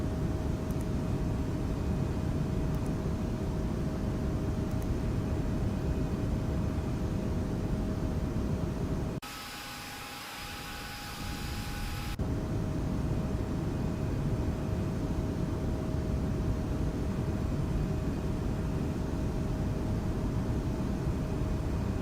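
An Embraer E-190 jet passes in a simulated flyby, a steady broad roar with a whining tone that briefly drops and thins partway through before the full noise returns.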